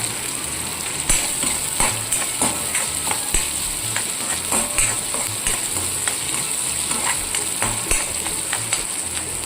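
Onion fries in oil in a pan, a loud, busy sizzle close by with frequent crackles and the scrape of stirring throughout, and no talking.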